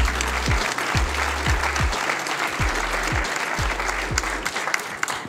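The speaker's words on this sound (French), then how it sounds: "Et on peut les applaudir." Audience applause for award winners at the 2013 e-health trophies ceremony, a steady close wash of many hands clapping throughout, with rhythmic low thumps underneath.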